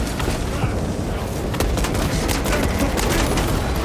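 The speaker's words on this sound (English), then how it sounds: "Throwing frag grenade!" A frag grenade blast and rattling gunfire in Space Marine 2 make a loud, dense wash of combat, with bursts of shots and booms piling up continuously from start to finish.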